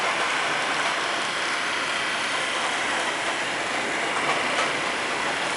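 A model Delaware and Hudson PA locomotive with DCC runs on a layout, giving a steady, dense rushing whir with faint clicking, loud and close and alone throughout.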